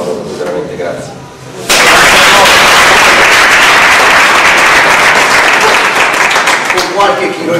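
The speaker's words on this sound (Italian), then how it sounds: "sono io che faccio un applauso, veramente grazie." Loud audience applause breaks out suddenly after a speaker's closing thanks at a conference in South Tyrol, a dense sustained roar of many clapping hands that holds steady for several seconds, with faint talk just before it starts.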